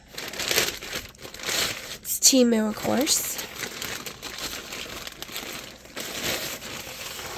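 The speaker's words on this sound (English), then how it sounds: "I got this in the mail and I was like, I'm going to open it for myself" Plastic packaging crinkles and rustles up close throughout, with a brief tearing sound partway through and a voice speaking briefly.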